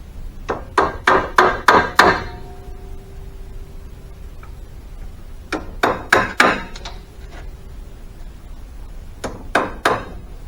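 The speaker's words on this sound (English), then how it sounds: "So I like to take my pins and I just tap them in about" Pins tapped into a handmade wooden chair with a hammer: three bursts of five or six sharp, close wooden knocks in quick rhythm, separated by quiet pauses.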